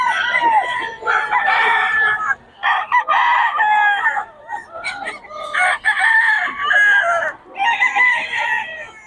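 Many roosters crow over one another at a busy chicken market in Bocaue, loud and close. Long overlapping crows come in waves with short breaks and scattered clucks, and faint voices sit in the background.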